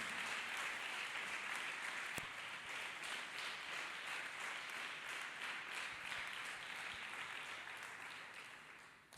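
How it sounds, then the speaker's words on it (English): Worshippers in a congregation clap hands for Jesus Christ in sustained, fairly faint applause, a dense even patter that carries on without voices before ending abruptly. "Let us clap hands once again for Jesus Christ,"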